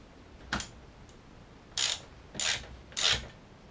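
A ratchet tightens an exhaust bolt on a BMW R1200RT motorcycle: four short, clicking ratchet bursts spaced about a second apart, fairly close and alone, with quiet gaps between strokes.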